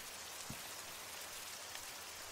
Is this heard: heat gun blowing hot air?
no